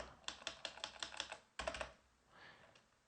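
Keys on a computer keyboard are tapped in quick bursts at close range: a run of sharp clicks, a short pause, another flurry of clicks, then a softer faint rustle as the typing trails off.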